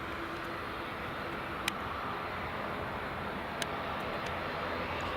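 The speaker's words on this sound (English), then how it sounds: "here comes the British Airways" A British Airways airliner in oneworld livery moves along runway 24 at Edinburgh Airport, giving a steady, moderately loud broadband engine roar that holds evenly throughout, with a couple of faint clicks on top.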